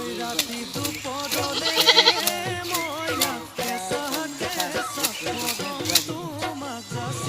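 Several goats bleat repeatedly in wavering, nasal cries that overlap one another, loud and close.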